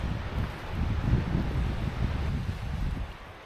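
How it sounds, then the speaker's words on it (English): Strong gusting wind of about 30 miles an hour buffets a campsite on the West Highland Way, a continuous low rumbling roar across the microphone with rising and falling gusts. "It's a little bit on the windy side at the moment."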